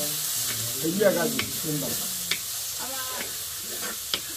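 Tomato pieces dropped into a pan of frying garlic and onion stir and sizzle under a steady hiss, with a louder splash of activity near the start and a few sharp spoon clicks later; a voice speaks briefly.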